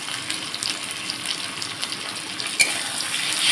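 Cumin, coriander, dried chilli and pepper sizzle in hot oil in a pan for a soybean curry, a steady bright hiss with small crackles throughout, close and fairly loud, with no one talking.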